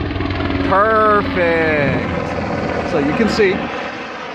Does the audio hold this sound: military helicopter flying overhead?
yes